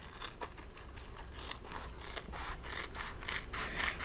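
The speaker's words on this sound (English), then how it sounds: "I like these Ginger scissors because they've got a sharp tip so I can get right down in there." Small sharp-tipped Ginger embroidery scissors snip embroidery thread close by, producing a run of quiet crisp cutting clicks and rasps.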